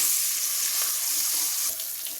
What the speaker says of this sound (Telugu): తాలింపు బాగా వేగిన తర్వాత అందులో నీళ్లు పోయాలి.